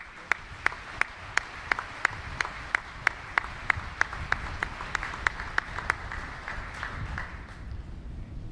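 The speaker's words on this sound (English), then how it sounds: "Let's give her another round of applause." Applause follows a performance by a Pacific Fleet Band musician at a U.S. Indo-Pacific change of command ceremony. It is a steady, moderately distant crowd clap, with one sharp rhythmic clapper standing out over it before it fades.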